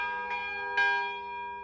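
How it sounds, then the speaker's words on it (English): Church bells ring around Lake Annecy in the French mountains, with two soft strikes and a sustained, humming resonance heard from a distance. "One can always hear the lovely melody of bells ringing out all around this"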